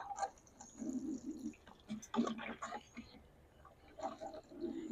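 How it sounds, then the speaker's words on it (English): Potted own-root roses in soil are watered, giving soft, faint trickles and drips of water soaking in, intermittent and quiet with low murmuring in the background. "give them a nice cool drink of water. I'm going to do that now."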